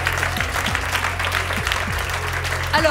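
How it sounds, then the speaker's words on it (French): A studio audience applauds in a steady, dense patter of claps, with a few low thumps and a short burst of voices near the end. "Je crois que certains ont applaudi un peu trop vite"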